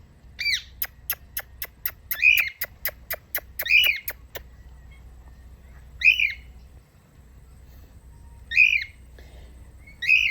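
A pet bird squawks indoors, giving a rapid series of sharp clicking chirps, then repeated short, harsh squawks spaced a second or two apart, close and fairly loud over low hum.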